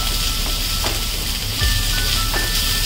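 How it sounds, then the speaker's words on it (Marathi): Vegetables for veg fried rice stir-fried over a full flame, giving a steady broadband sizzle with a few soft scraping stirs, close and continuous throughout. "भर फुल गॅसवरच परतून घेऊया"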